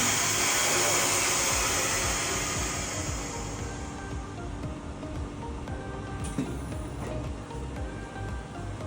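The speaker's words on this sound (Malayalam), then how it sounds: "ഇതിൽ അല്പമെങ്കിലും ഈർപ്പം അവശേഷിക്കുന്നുണ്ടെങ്കിൽ അതുകൂടി കളയുന്നതിന് വേണ്ടി നമ്മളൊരു ഹെയർ ഡ്രയർ ഉപയോഗിച്ച് അതൊന്ന് ഹീറ്റ് ചെയ്യും" A hair dryer heats vacuum-sealed packets of pounded dried buffalo meat: a loud, steady blowing whoosh for several seconds that then drops to a quieter hum against background noise.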